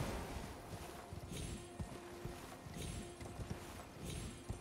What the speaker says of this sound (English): I'd like to call my horse, please.